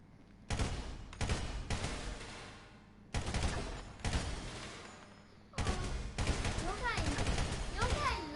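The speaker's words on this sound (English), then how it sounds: "So we're going to use the assault rifle, I think." Assault rifle bursts fired at targets in GTA V, coming in several loud clusters of rapid shots with short pauses between them and brief lulls where the echoes fade.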